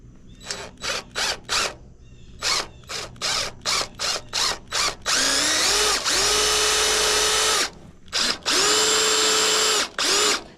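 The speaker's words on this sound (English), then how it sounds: "Now I'm just going to take and just drill it." A power drill bores into the steel frame of an old scrap utility trailer under restoration, running in a string of short bursts before two long sustained runs where the motor pitch settles, loud and close with no talking.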